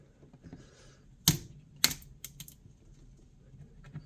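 A knife cuts through keto chocolate toffee fat bars, giving two sharp, loud cracks close together as the hard topping snaps, with faint scraping in between.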